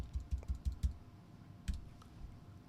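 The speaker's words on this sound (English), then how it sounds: "So we'll just type in cooking course." Keystrokes on a computer keyboard as a search term is typed, a quick run of about six soft clicks followed by a pause and a few more scattered taps, close and fairly quiet.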